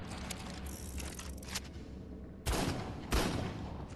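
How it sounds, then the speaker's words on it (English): Gunfire aimed at a shark in the Ark Survival Evolved video game, a pair of sharp loud shots near the end over a busy underwater game backdrop, no voices. "Let's try to shoot the shark first."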